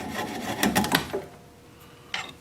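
A gouge cuts through a small mountain mahogany nub spinning on a wood lathe, producing a few rough scraping and rasping bursts that then die away, followed by a short scrape near the end.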